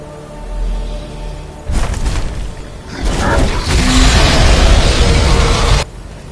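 A Greybeard's dragon shout (Thu'um) in Skyrim, a loud booming blast of rushing, rumbling force that erupts after a quiet pause, surges in two waves and cuts off abruptly.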